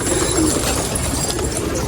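Pigeons at a loft in Shinde village, Nashik, coo in a steady, fairly loud, continuous murmur with soft low calls layered over a constant background hum.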